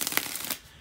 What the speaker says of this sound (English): to shuffle the cards